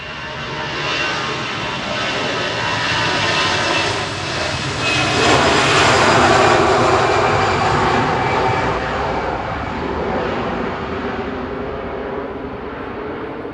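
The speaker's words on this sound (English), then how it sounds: "Swiss departing to Zurich now with flight 381" A Swiss airliner departs Manchester Airport, its jet engines roaring loudly and swelling to a peak midway before easing off, with a sweeping whine over the deep rumble and no talk.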